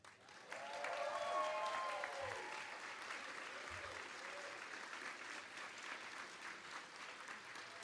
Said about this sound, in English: can you all please stand up, turn around, and cheer for everybody that's here for you and got you here.